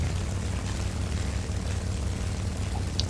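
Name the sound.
Japanese Zero fighter plane propeller engine in War Thunder video game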